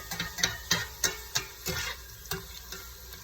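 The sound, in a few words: shrimp and mixed vegetables being stirred while frying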